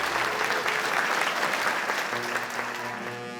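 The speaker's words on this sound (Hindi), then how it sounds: "हमारे जज साहब का जोरदार तालियों से स्वागत करें।" An audience at a formal event welcoming a judge with a loud wash of applause that holds steady, then thins and fades over a low hum in the final second.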